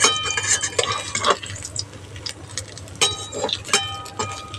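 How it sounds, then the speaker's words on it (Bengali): Lentil paturi being fried and turned in a pan, giving soft stirring scrapes and light utensil clinks against the pan over a faint sizzle, in irregular bursts at close range. "এইভাবে করে ঘুরিয়ে ঘুরিয়ে সব দিকটা সমান করে ভেজে নিচ্ছি।"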